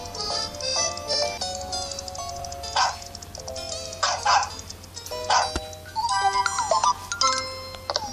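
A French Bulldog in the Nintendogs + Cats video game gives several short yips and barks in bursts amid chiming electronic game tones and melodic beeps, with no talk.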